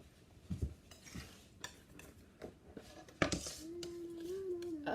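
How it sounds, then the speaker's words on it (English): Paint colors mixed on a smooth plexiglass palette: soft scraping and tapping strokes, fairly faint and close, then a rising continuous tone near the end, with no talking. "I'm going to mix two colors"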